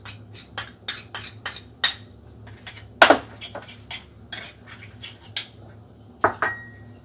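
Pork ribs marinated with black beans and oil are stirred with a utensil in a metal bowl or pan, giving a series of sharp, close scraping clinks at an uneven rhythm with short pauses between strokes.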